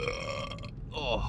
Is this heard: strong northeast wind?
no